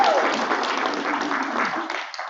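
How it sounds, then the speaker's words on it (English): Audience at an annual meeting of a faith council applauding, a sustained broad patter of many hands at moderate loudness that tapers slightly near the end. "I think you should clap."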